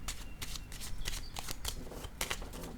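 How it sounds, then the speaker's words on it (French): A playing card set down on a table during a tarot-style card reading, heard as a series of soft papery slaps and shuffling rustles at close range, with no talk. "Je vais juste déposer une carte ici."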